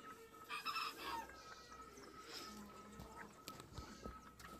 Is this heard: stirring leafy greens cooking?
no